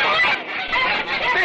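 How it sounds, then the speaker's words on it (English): Cartoon ducks squawk and honk in a dense, overlapping flock, loud and close for a brief burst, with no speech over them. "Hey, watch out for those ducks."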